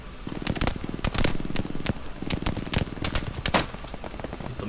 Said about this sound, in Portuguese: Alguém está atirando em você.